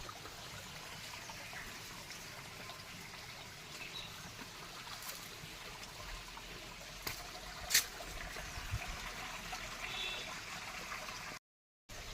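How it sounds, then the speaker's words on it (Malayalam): River water flowing in a steady, low broadband wash that runs evenly through the clip, with a few faint splashes and knocks and no talking. "നിങ്ങളുടെ നാട്ടിൽ വലിയ പുഴയുണ്ട്."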